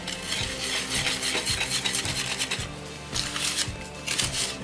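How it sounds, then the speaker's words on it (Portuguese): Apple cake batter being mixed in a bowl or baking pan, rhythmic scraping and stirring strokes repeating at a steady pace, close and clear with no talking. "Agora eu vou misturar."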